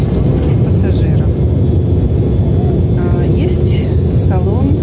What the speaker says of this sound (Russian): авиалайнер Embraer 190